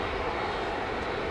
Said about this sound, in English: Captain Len, retiring Captain Len, on his last ever flight out of Heathrow.